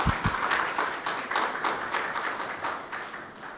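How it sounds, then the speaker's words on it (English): Audience applause for business partners at a curriculum launch event, a steady wash of many hands clapping that holds evenly and fades slightly toward the end. "So a big round of applause to all of you all."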